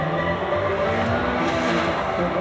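A gymkhana race car runs a timed heat on an Akita gymkhana course, its engine roaring steadily and loudly throughout with tire noise layered in.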